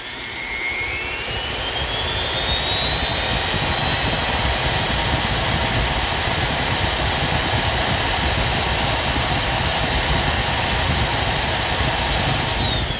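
A grinder driven by an SCR DC motor drive spins up to its maximum speed of about 25,000 rpm, giving a loud, sustained high-pitched whine with rising tones over a steady rushing roar, heard alone.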